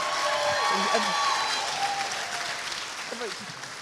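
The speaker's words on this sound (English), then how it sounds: "can we just please get a massive round of applause for our entire team?" Audience applause for the team at a TEDx youth event, a steady, moderately loud clapping wash with an excited voice calling out over it near the start and again toward the end.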